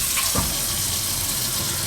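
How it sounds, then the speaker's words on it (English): Hot water runs steadily from a tap into a sink being readied for soaking a stained garment, a loud continuous rushing with no voices. "turn my hot water on"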